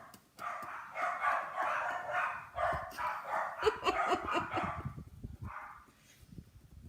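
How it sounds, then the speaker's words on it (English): Dogs bark and yip continuously at a distance, a muffled, overlapping chorus that tapers off toward the end. "And there go my dogs because we're getting something delivered."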